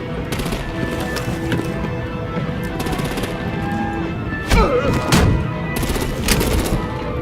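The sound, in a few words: gunfire in Batman Telltale video game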